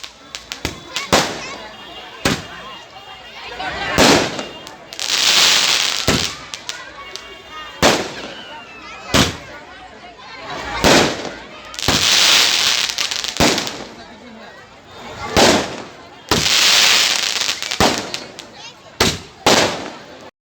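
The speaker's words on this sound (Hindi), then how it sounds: "आतिशबाजी की गई।" Fireworks burst at a Dussehra festival where a clay Ravana effigy is burned in Rajnandgaon, loud crackling explosions and rapid firecracker volleys repeating in uneven bursts, with voices mixed in between blasts.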